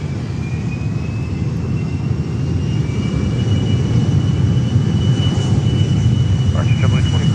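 Constant, loud, broadband roar of a Cessna Citation X business jet at Fort Lauderdale airport, steady and close throughout, with a faint voice partly audible under the engine noise.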